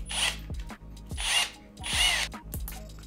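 Power drill boring holes with a 2.5 mm bit during assembly of a robot upgrade kit, three high whining bursts with short pauses between them, close and fairly loud with light handling knocks.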